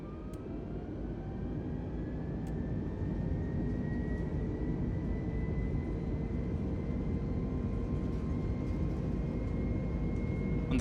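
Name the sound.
aircraft takeoff roll in Microsoft Flight Simulator video game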